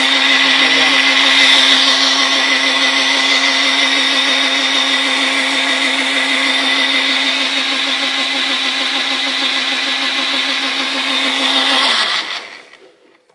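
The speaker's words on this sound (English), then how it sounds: "And I blend it." An electric blender whirs steadily while blending an allspice latte, a loud close continuous drone lasting about twelve seconds before spinning down abruptly, no talking.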